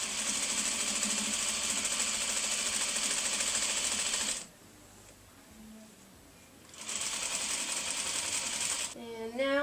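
A sewing machine stitches quilt top sections together, running steadily for about four seconds, pausing, then running again, ending with a short back stitch.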